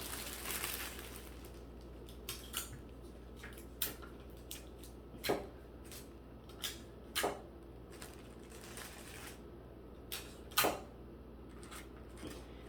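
Tape pulled and pressed around a fitted gift basket, scattered short crackles and sticky snaps at irregular intervals over a quiet background, close and faint.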